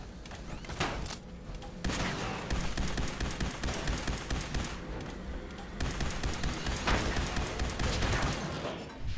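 Sustained gunfire exchange in Fallout 4's Far Harbor during a fight with an Assaultron robot: rapid, dense volleys of shots and thuds with brief pauses, loud and continuous throughout.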